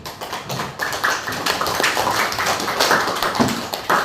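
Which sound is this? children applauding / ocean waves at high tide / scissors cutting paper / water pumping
children applauding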